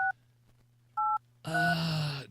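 Touch-tone telephone dialing while placing a call: two short, clean keypad beeps about a second apart, then a loud, harsh sustained tone that fills the last second.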